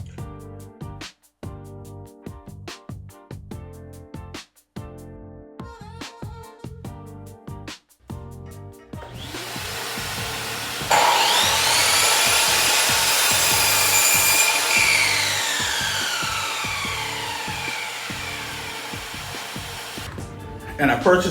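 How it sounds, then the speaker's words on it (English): A cedar fence picket board is cut down to length with a hand saw: a rhythmic run of close, loud back-and-forth strokes, then a steady harsher rasping cut that holds for several seconds before stopping. "I'm going to cut this board down to 28 inches."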